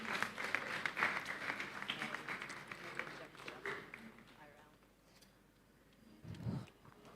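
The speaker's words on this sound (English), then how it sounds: "give a round of applause to our panelists and for their contributions" An audience at a panel discussion on AI and culture applauds the panelists with a dense patter of clapping that gradually thins and fades, before a voice begins speaking near the end.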